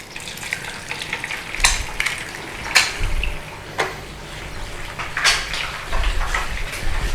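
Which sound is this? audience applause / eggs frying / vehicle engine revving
eggs frying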